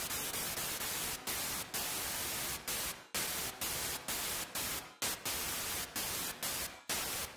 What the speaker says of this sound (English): I noticed in the original drop some white noise that is playing the whole drop long. I recreated it with the 3X OSC.